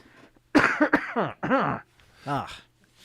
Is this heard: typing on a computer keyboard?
no